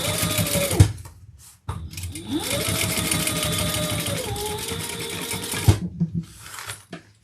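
A sewing machine runs top stitching on a Louie waist pack, a steady mechanical whir that pauses briefly near the start and stops and restarts later, close and loud with no talk.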